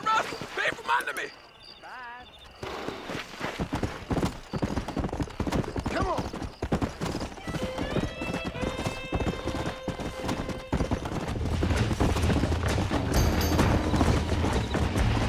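A horse gallops in the video game Red Dead Redemption, with rapid, close hoofbeats clattering throughout, a brief whinny, and someone shouting over it.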